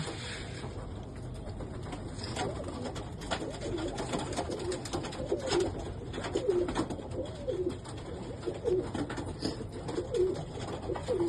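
Several pigeons kept at a home loft coo in soft, repeated low phrases that grow more frequent in the second half, over a steady background hum.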